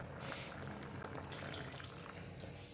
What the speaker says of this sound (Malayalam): മിക്സി കഴുകിയ വെള്ളം കൂടെ അതിനകത്തോട്ട് ഒഴിച്ച് നമുക്കൊന്ന് മിക്സ് ചെയ്ത് നോക്കാം.